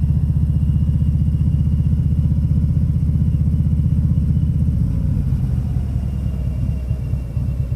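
Harley motorcycle riding off-road on muddy trails, a loud close-up pulsing engine rumble with rhythmic firing beats that eases slightly toward the end, no talk.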